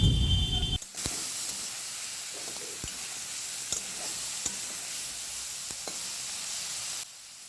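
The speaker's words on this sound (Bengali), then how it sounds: "সবজিগুলো হালকা ভাজা হয়ে গেছে এবার এর মধ্যে কুচিয়ে রাখা টমেটো আর পেঁয়াজ দিয়ে দিলাম" Chopped tomato and onion hit a pan of lightly fried potato, pointed gourd and long beans, producing a loud, steady sizzle with a few faint stirring clicks throughout.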